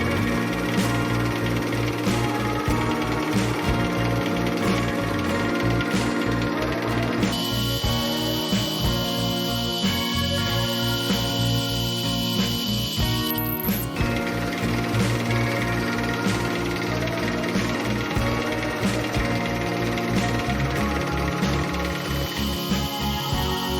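Holes are drilled for the front vise of a Shaker-style workbench, with a steady, loud mechanical whir and rattle running continuously and a shift in pitch partway through.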